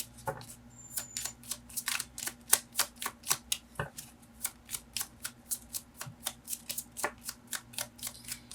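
Tarot cards are shuffled over and over in quick, rhythmic riffles, crisp and close, about three bursts per second with no talking.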